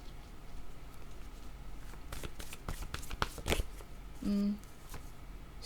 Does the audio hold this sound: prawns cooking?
no